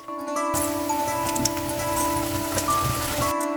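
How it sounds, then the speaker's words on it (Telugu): Chicken sizzling and frying in a pan as chili powder goes in, a steady dense crackle close by that starts after a brief quiet moment and continues without a break. "చికెన్ ఇట్లా ఫ్రై అయింది కదా ఇప్పుడు కారం వేసుకుందాం"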